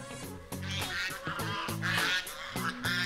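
Geese honk near a goose herder in a staged idyllic village scene in eastern China, a loud, busy run of overlapping honks and calls that continues throughout with no pause.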